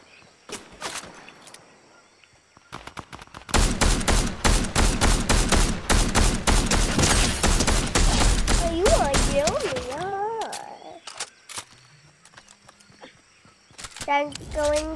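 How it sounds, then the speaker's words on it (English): Rapid gunfire bursts in a Fortnite duos match, a dense volley of close shots lasting several seconds, followed by game effects, with scattered shots near the start and end and people talking over it. "there's some shots coming out there"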